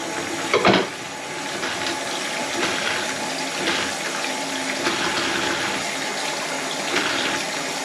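Hot water gushing steadily from a tap after a brief knock, a continuous close hiss of flowing water with no talk.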